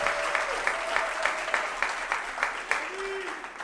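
Moderate applause from a live podcast audience welcomes the co-host, a steady wash of clapping with distinct sharp claps punctuating it and faint voices mixed in.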